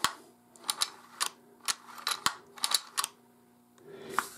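A Ruger Ranch Rifle's gas-operated, M1-style action is worked by hand, the slide drawn back to rotate the bolt, giving a run of sharp, close metallic clacks and clicks in an irregular rhythm.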